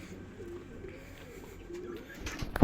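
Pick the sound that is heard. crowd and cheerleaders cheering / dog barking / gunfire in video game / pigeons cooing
pigeons cooing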